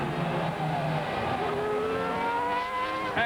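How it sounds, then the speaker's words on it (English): A Ferrari Formula 1 race car at the 1999 San Marino Grand Prix screams past with a loud, sustained high-revving engine whose pitch shifts as it goes by, with a crowd roaring underneath. "Michael Schumacher comes down to the Traguardo for the last time"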